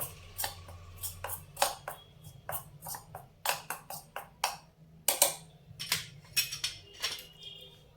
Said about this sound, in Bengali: সমস্ত উপকরণগুলো শুকনো মিশিয়ে নেব